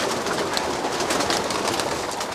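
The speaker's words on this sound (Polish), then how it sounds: "tak wyglądają jego gołąbki" Pigeons in a racing loft coo in a dense, steady chorus, loud and continuous, layered over a broad wash of background noise.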